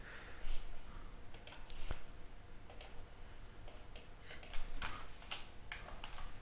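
Several sharp mouse clicks in midas Civil bridge-design software, spaced irregularly over a quiet room background with faint hum, no talking.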